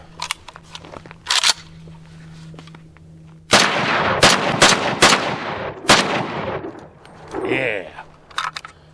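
Ruger Mini-30 rifle firing Winchester 123 grain full metal jacket rounds from a 5-round magazine: several sharp, loud close gunshots in a cluster, with handling clicks before and a brief voice afterward.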